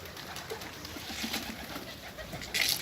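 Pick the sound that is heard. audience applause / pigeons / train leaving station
pigeons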